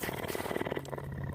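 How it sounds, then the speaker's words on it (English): An indoor cat purrs close up in a steady, soft, rhythmic rumble for a brief moment. "But she is purring."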